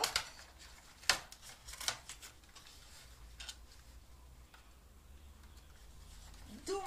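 Cardboard compartment of a NYX makeup advent calendar being pried open, giving a few faint, brief crinkling snaps and scrapes spread over several seconds against a quiet room background.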